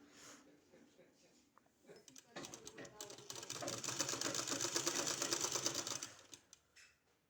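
A sewing machine stitches a seam on a narrow pant. Its rapid, close mechanical chatter starts after a few scattered taps and runs steadily for several seconds before stopping.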